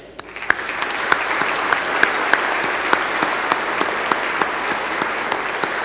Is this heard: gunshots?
no